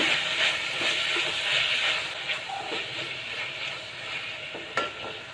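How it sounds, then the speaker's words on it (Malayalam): Sliced onions with salt frying in a pan while being stirred, a continuous bright hiss of sizzling with occasional scraping of the spoon and a sharp clink near the end, close and fairly loud. "അതിനകത്തേക്ക് നമുക്ക് സവോള വാടാൻ ആവശ്യമായ സോൾട്ട് ചേർത്ത് കൊടുക്കാം എന്നിട്ട് നന്നായിട്ട് ഇളക്കി കൊടുക്കുക"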